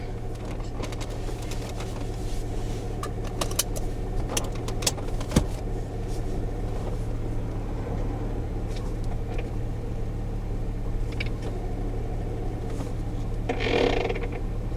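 A Jeep Grand Cherokee ZJ fitted with a swapped AX15 five-speed manual transmission runs as it sets off, a steady low engine drone heard from inside the cab with occasional small clicks and rattles and no talking.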